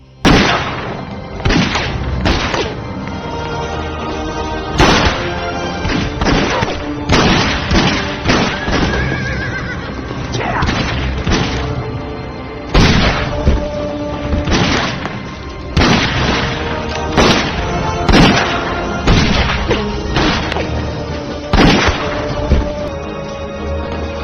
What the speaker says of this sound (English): Heg is caught off guard when James draws quickly and opens fire, aided by Collins and Benjamin.